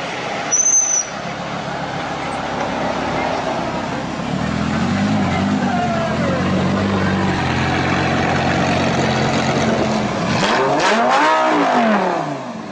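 Custom rally car called the Incinerator at the start grid of the Gumball 3000 rally, engine revving loudly and pulling away amid crowd noise and talk.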